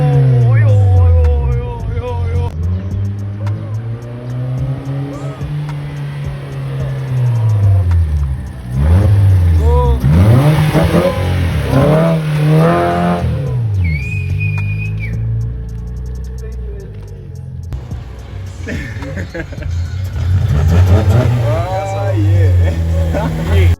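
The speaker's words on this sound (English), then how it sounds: "Rev it low, just a low." A VW Polo with a swapped-in 1.4 engine revs repeatedly, its pitch rising and falling in loud, close surges, while someone talks over it and music plays at times.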